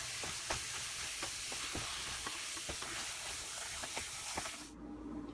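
A date laddu mixture with pistachios and almonds is stirred in a pan, giving a soft sizzling hiss broken by repeated scraping strokes. It stays close and fairly quiet, with no talking, and drops away near the end.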